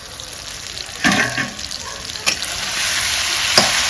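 Fish and cauliflower masala frying in a pan for a Bengali-style rohu fish curry, a continuous close sizzle punctuated by a few sharp spoon-on-pan clacks, with no talking.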